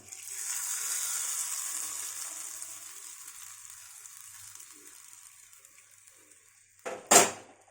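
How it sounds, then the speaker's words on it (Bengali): Curry leaves tempering in hot oil for a peanut chutney give a steady broadband sizzle that slowly fades, followed by a brief louder clatter near the end. "কারি পাতা দিলাম, চাটনিতে আমি ফোড়নটা দিয়ে দিলাম।"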